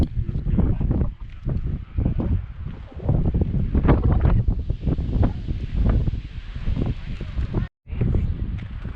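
Gusty wind buffets the microphone on a steep hiking trail in Bryce Canyon, Utah, in rough, uneven bursts, a low rumbling roar that rises and falls with a brief drop near the end.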